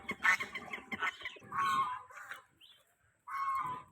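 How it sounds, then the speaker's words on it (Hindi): Guinea fowl call nearby in a series of harsh, rasping cackles, some bursts rapid and choppy, others longer grating cries, with brief quiet gaps between them. "गिनी फॉल वीडियो, हेलमेट वाला पक्षी"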